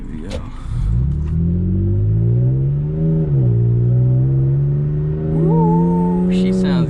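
A 2021 Yamaha TW200 motorcycle fitted with a cheap loud exhaust idles and revs nearby, a deep throbbing single-cylinder note that dips and rises, with a brief voice at the start and end.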